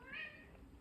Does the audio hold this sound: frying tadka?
no